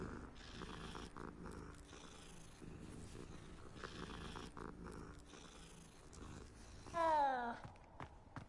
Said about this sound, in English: It's a kitty.